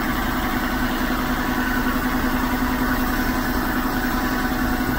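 A Kia Bongo 3 4x2 with the J3 3.0 Euro 4 engine idling: a steady, even low rumble with constant mechanical hum, close and unchanging throughout.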